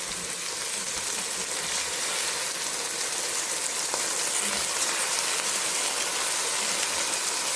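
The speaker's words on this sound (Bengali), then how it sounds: "এখন দিয়ে দিব এখানে ডাল, এই যে ধুয়ে রেখেছি, এটা দিয়ে দেবো এখন" Washed lentils go into a hot pot of khichuri spiced with whole cumin, setting off a loud, steady, hissing sizzle that runs unbroken throughout with no voices.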